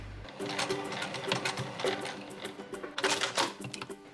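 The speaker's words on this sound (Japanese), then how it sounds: "ここからここまでを縫い代1センチでミシンで縫います。" A close sewing machine stitches a seam with a 1 cm seam allowance on stetecko underpants, giving a rapid, even rattle of the needle. It stops briefly and restarts near the end, and nobody speaks.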